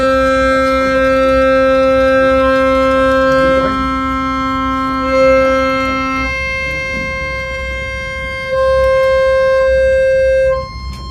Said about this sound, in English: you can hear all the different combinations of reeds that change the sound that the accordion makes